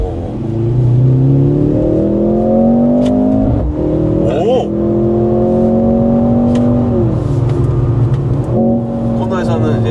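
A Mercedes-AMG engine revs hard and climbs through the gears under acceleration, heard from inside the cabin as a loud, rising drone with several sweeping pitch changes and a short dip between shifts, with people talking over it.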